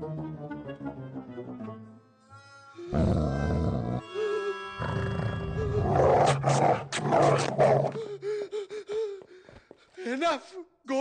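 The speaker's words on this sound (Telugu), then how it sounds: "అదే కుక్క. ఓరి దీని ఇది మళ్ళీ వచ్చిందా?" A dog barks and growls in a film scene, with loud snarling and gruff vocal bursts mixed with gasps and human voices talking and shouting over it.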